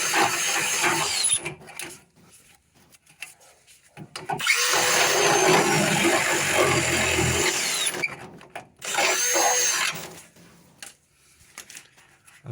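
A power drill bores into inner wheel arch metal on a 1970 MGB GT, a close whirring and grinding that comes in a few bursts of varying length with quieter gaps between them, and no speech.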